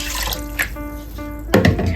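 Tap water, three cups measured for two cups of brown rice, runs steadily into a cooking pot, with a brief clatter partway and a louder splashing surge near the end, no talking.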